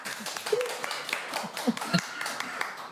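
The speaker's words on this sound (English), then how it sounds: "Yay, clap, yay." A small audience claps briefly and sparsely, a few scattered claps under ongoing talk in a studio setting.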